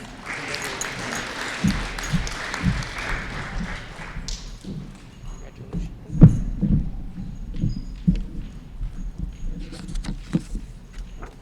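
Audience applause at a Sunnyslope School eighth grade promotion ceremony in 2021, a long, steady spread of clapping from a crowd with scattered louder claps and a few voices mixed in.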